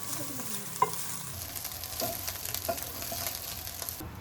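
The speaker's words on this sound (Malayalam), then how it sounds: "ഇനി ഇതെല്ലാം ഹൈ ഫ്ലെയിമിൽ വെച്ച് ഇളക്കി യോജിപ്പിക്കണം" Egg fried rice with cooked rice and egg stir-fried on high flame, a steady sizzle broken by scraping spatula strokes and a few sharp clinks against the pan, close and continuous with no talking.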